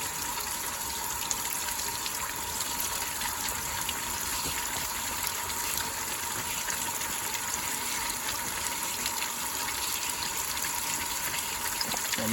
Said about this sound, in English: So we're seeing mainly the water coming out of the radiator.